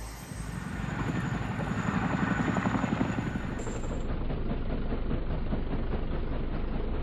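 A CH-47 Chinook tandem-rotor US Army helicopter, a loud, steady, close rotor thump with a dense pulsing beat and a continuous engine roar that holds throughout.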